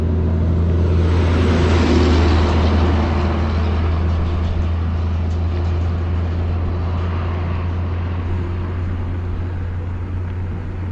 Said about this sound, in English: Lorry.